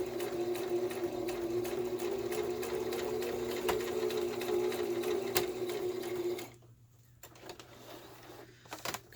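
A sewing machine stitches steadily along the edge of a quilted ring binder journal cover, a close, even whirring hum that stops abruptly near the end, leaving a few soft handling clicks.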